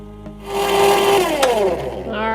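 Lemon ice cream mixture being churned in an ice cream machine with its churn paddle fitted, giving a steady, loud motor whir with a shifting mechanical hum that carries on throughout.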